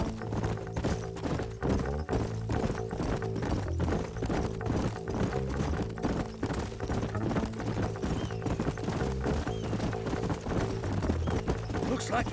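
Horse hooves clip-clop steadily across the ground in Red Dead Redemption, a continuous rhythmic trot running beneath dense game music and ambient sound throughout.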